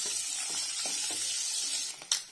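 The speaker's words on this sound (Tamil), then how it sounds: "இப்போ நம்ம வேக வச்ச முட்டையை ஃப்ரை பண்ணிக்கலாம்" Boiled eggs fry in hot oil with a steady, close sizzle, broken near the end by a sharp spatter.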